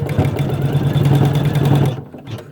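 An embroidery machine stitches a soft toy piece with a fast, steady mechanical whir and rapid needle rhythm, loud and close, stopping abruptly near the end.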